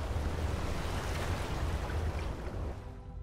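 Rushing waterfall water in the Skyrim video game, a steady broadband roar with a low rumble that holds at constant loudness throughout and fades slightly at the end, with no talk.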